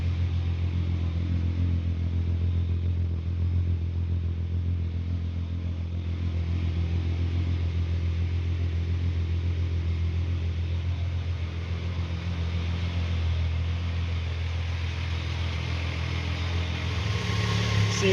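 A Volkswagen Golf MK3 VR6 engine idles steadily, a low, even rumble with a slight mechanical clatter, holding constant and fairly close for the whole stretch without revving.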